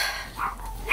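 A pug in labour yips and whimpers in short, fairly close bursts, with one sharper high yip at the end, over a steady background hiss.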